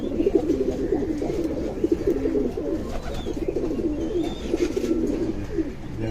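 Light-coloured silver pigeons cooing in a loft, repeated low throaty coos rolling one after another close by, with no talk.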